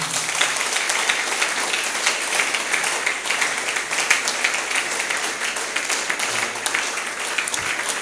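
A church congregation applauds and cheers in praise during a worship service, heard as a steady, dense wash of clapping and crowd noise that holds for the whole stretch, with no clear talking.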